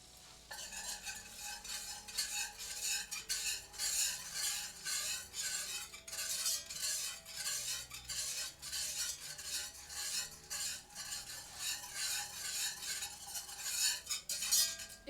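Whisk stirring flour in a hot pan, a continuous quiet scraping and swishing with light metallic clinks and a soft sizzle, close and steady throughout with no talking.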